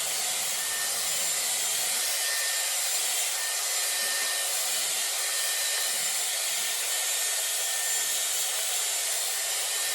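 Dyson Airwrap hair styler blowing steadily on medium heat, a continuous broadband airy whoosh that stays close and even for the whole stretch, with slight muffling dips as the brush moves through hair.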